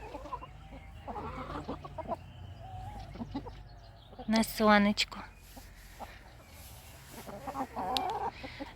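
Backyard chickens and a rooster, including Wyandotte and Faverolles hens, cluck and chatter nearby in soft, scattered bursts, with one louder squawking outburst midway, while someone talks over them.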